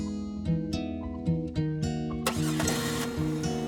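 A car engine starting in an animated family story, a steady mid-pitched running rumble with a few sharp knocks and a burst of brighter noise partway through, fairly close and alone.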